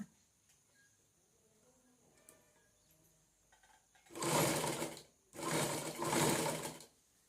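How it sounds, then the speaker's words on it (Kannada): A sewing machine stitching cloth pieces together for a return-gift carry bag, running in two bursts, one shorter then one longer with a brief pause, loud and close after a few seconds of near quiet. "ಈ ಬಟ್ಟೆ ತುಂಡ ಮೇಲೆ ಏನು ಗುರ್ತು ಅದು ಸ್ಟಿಚ್ ಹಾಕೊಂಡು ಬರೋಣ"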